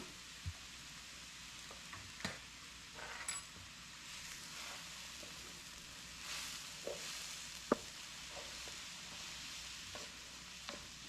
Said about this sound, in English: Keep stirring so nothing sticks.